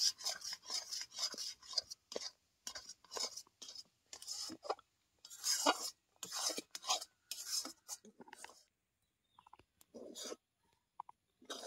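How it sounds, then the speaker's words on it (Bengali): Cooked semolina (suji), boiled in water, being mixed and kneaded by hand into a dough in a bowl, giving close, uneven rasping and rubbing scrapes in short bursts with brief pauses, no talking. "এটাকে খুব ভালো মতো এইভাবে মিশিয়ে নিয়ে আমি এই জলটাকে মেরে নেব, একটা ডো তৈরি করে নেব"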